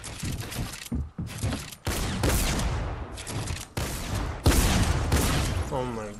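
A shooter video game erupts in dense, loud bursts of gunfire, rapid volleys and single shots crowding one another with barely a pause, under an excited voice talking.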